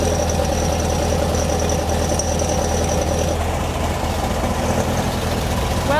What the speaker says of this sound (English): Well, it's basically idling. I mean, it's idling on its own.